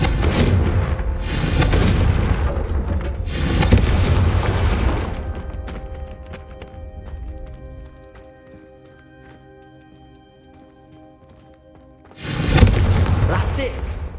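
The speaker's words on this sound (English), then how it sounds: "I think you'll find that a Confringo cast travels a bit farther than that of a spell like Incendio" Confringo spell cast in Hogwarts Legacy: booming, explosive bursts with fiery crackle, one early, one midway and another near the end, separated by a quieter ringing tail with tonal game ambience.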